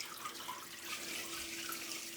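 Water rushes and splashes steadily as an aquarium filter starts up and begins flowing, a continuous moderate stream with a faint steady hum underneath.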